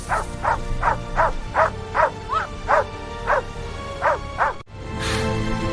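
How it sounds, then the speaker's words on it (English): A dog barks about ten times in a steady, evenly spaced series of loud, close barks amid a house-fire rescue, followed by a brief pause and a burst of rushing noise. "what's that dog doing?"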